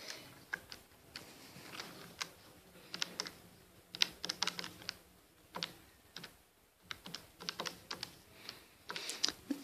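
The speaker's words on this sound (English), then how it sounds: "So that's what we're going to type into our calculator." Calculator keys being pressed while entering numbers for an exam maths problem, a quick run of light plastic taps in irregular clusters, close and quiet with no talk.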